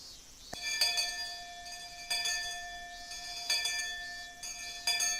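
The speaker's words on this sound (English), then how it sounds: "The bell rung, sounding the end of the monotonous school day" A school bell in the Higurashi video game rings with bright, metallic, sustained tones, struck again and again at irregular intervals, with a clear ringing decay between strikes.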